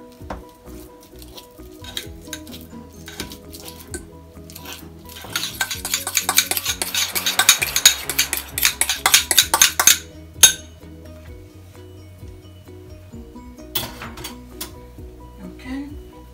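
A banana is mashed in a bowl, with a rapid flurry of clinking, scraping utensil strokes against the dish building up in the middle, then quieter taps and clinks on either side.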